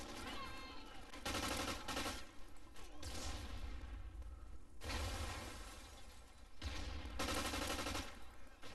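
A video game gun fires in several bursts of rapid automatic shots, sharp and fairly loud, separated by short quieter gaps during a capture-the-flag match.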